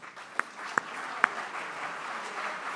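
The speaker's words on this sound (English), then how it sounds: "if you would notice them with your applause" Meeting audience applauds volunteers with steady, soft clapping heard from a distance, with a few sharper individual claps standing out near the start.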